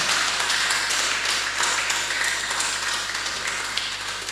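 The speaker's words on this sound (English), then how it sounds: "please, Chondros clap for the presenter" An audience applauds a presenter at a conference session: a steady wash of many hands clapping, fairly close and continuous, with no talking over it.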